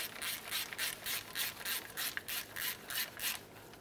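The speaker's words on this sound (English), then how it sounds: "Now we can tighten all three of these 11 millimeter headed mounting bolts." Tightening three 11 mm headed mounting bolts on a governor pressure solenoid of a 1994-2002 Dodge Ram 2500, a steady run of about a dozen short rasping ratchet strokes, close and evenly paced, with no talk.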